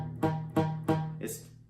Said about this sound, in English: So what is happening if it's sounding muted like this?